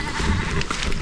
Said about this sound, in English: Wow, the sheep already have the babies.